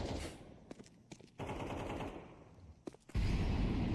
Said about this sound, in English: Bullets sail past Maltz as he locks in mid-box.